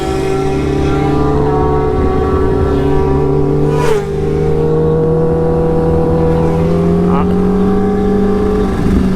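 A Kawasaki Ninja H2 motorcycle idles and revs during a warm-up at a meet, its steady engine drone loud and close with a brief dip and rising pitch sweeps, a second bike nearby.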